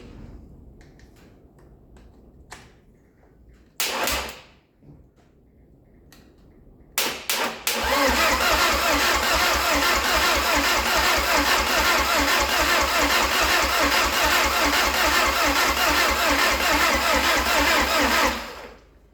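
A freshly rebuilt 1.8 20-valve turbo car engine cranks in short, sputtering tries, then catches and roars into a loud, steady run that continues for several seconds before stopping.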